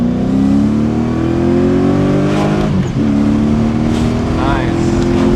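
A V8-swapped BMW E30 roars loudly and steadily as it accelerates, its engine note climbing, then briefly dropping through a gear shift before rising again.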